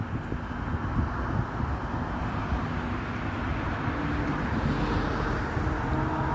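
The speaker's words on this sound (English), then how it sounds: "You can hear traffic." Steady roar of traffic on a busy suburban road beside a sidewalk in Minnesota, a continuous broadband wash of passing vehicles heard at a distance in open air with some wind, no one speaking.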